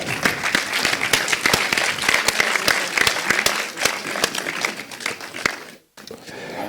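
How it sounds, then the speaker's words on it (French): Audience applause at the closing ceremony of Dakar'Court in Dakar, dense steady clapping from a crowd that breaks off briefly near the end, then resumes more faintly. "Sous vos applaudissements"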